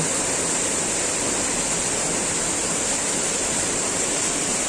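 Steady rushing water pouring into a pool at Keralamkundu waterfall, Kerala, a continuous broadband roar with no breaks, close and fairly loud, no voices.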